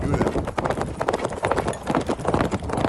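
Horse hooves clip-clopping in a fast, continuous clatter of overlapping hoofbeats, loud and busy with no pauses.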